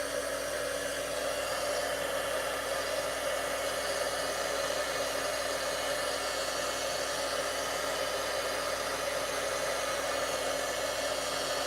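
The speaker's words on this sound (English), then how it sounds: "I'm going to come in with my heat tool. So bear with me as I emboss" Heat tool melting embossing powder on a card, a constant loud blowing hiss with a steady hum, unbroken throughout and with no talk.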